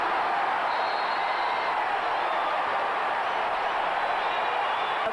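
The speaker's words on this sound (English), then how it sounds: "Damn, they are cheering Larry." Arena crowd cheering for Larry Bird at a basketball game, a steady dense roar of many voices that holds loud and unbroken throughout, with no clear talk standing out.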